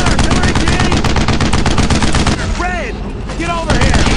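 Dense, continuous machine gun and rifle fire from a World War II combat game, loud and relentless, with shouted voices breaking through the barrage.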